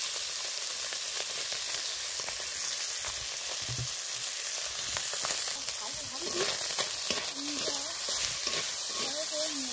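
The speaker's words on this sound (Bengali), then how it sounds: "চিকেনটার মধ্যেও আমি সামান্য দেব লবণ, পরিমাণ মতো লবণ, আর সামান্য হলুদ দেব, দিয়ে একটু ভালো করে ভেজে নেব।" Chicken pieces seasoned with salt and turmeric fry in a pan with a continuous crackling sizzle and hiss, close and steady throughout, with occasional stirring and low voices in the background toward the end.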